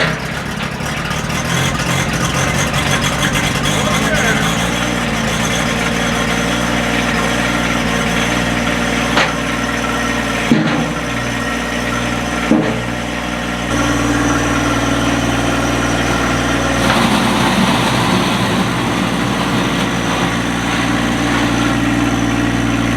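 A diesel engine with glow plugs idles steadily after a cold start, a loud, continuous low rumble with vibration, a few brief revs or knocks standing out partway through.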